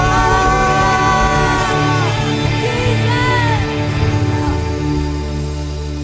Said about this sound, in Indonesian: Kasih tepuk tangan yang paling meriah buat Tuhan.